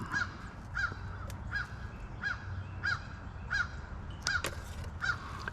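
A crow caws repeatedly outdoors, about eight evenly spaced calls at a steady rhythm, moderately distant over a low ambient rumble.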